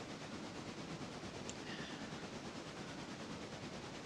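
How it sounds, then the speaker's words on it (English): Train from the video game Railroader rolling along rails, a steady low rumble with faint clickety-clack and hiss, continuous and even throughout with no talk. "train number 2 is now on its way to the depot"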